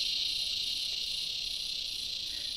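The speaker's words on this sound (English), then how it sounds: "But you can hear those cicadas in the background" Cicadas in Australia buzz in a continuous, even, high-pitched drone in the background, holding steady throughout with no voices.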